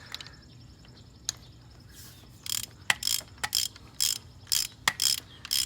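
Ratchet clicking while tightening a spark plug on a 6.1L HEMI V8 in a 2006 Dodge Charger SRT8, close up: sparse ticks at first, then a steady run of bright, rhythmic ratcheting strokes with short pauses between them.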